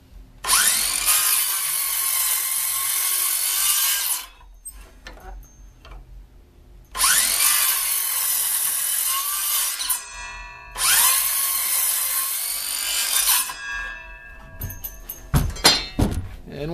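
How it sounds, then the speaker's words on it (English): Power tool cutting notches into the wood of an old coffee table, three loud harsh buzzing bursts of several seconds each separated by pauses, with clunks and knocks of handling between cuts. "going to keep making notches till we eventually get this whole thing cleared of the wood"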